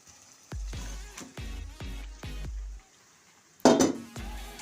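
Raw chicken, 700 grams rubbed with salt and turmeric, tipped into a cooking pot in a village-style Bengali desi chicken dish, heard as several heavy thuds and clatters in a row, ending in a loud clang and a brief sizzle.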